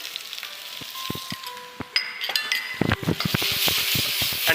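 Chopped garlic, ginger and onion hitting a hot pan for crispy noodle soup: metallic clinks and ringing taps of utensils on cookware, then a loud rising sizzle that swells and holds through the end, close and without speech.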